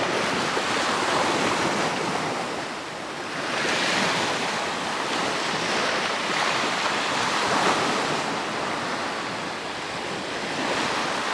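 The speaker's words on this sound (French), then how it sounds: "les vagues, le bruit de la mer" Ocean waves break and wash onto the shore at sunrise in a steady, broad roar with gentle swells, mixed with wind noise on the microphone and no voices.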